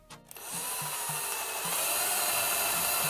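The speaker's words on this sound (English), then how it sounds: "I'm just going to add this into the drill." Power drill boring a hole into a bathroom vanity cabinet while fitting floating shelves: a brief start-up, then a steady, loud whirring grind that holds to the end, with faint rhythmic low knocks underneath.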